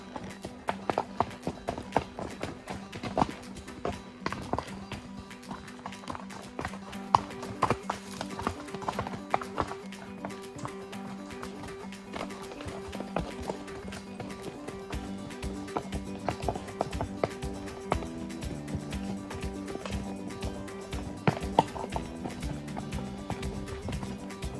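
Horse hooves clip-clopping steadily along a mountain trail on a long ride, a continuous close rhythmic beat of footfalls with faint ambient noise and no talking.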